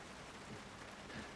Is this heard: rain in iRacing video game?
yes